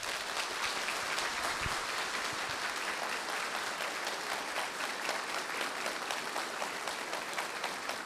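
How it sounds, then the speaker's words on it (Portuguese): Steady, sustained applause from an audience at a book launch honoring Frei Ivo, a dense even clapping that holds without pause from start to finish. "Ao Frei Ivo, uma forte salva de palmas."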